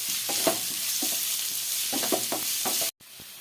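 Egg being stirred in a hot frying pan for an egg cheese sandwich, with scraping spatula strokes in bursts over a steady close sizzle, then a brief cut to near silence.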